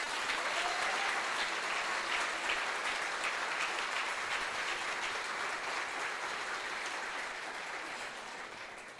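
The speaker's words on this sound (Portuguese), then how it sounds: "aplaude aí o que Deus já fez" A church congregation applauds during a sermon, a dense, sustained burst of clapping that fills the space and slowly fades toward the end.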